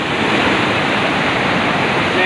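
A stream flows in a steady, loud, continuous rush of water, close by and uninterrupted.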